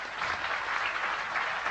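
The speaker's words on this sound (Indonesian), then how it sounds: "tepuk tangan untuk beliau" An audience at a discussion gathering bursts into loud, dense applause, many hands clapping together steadily and close throughout.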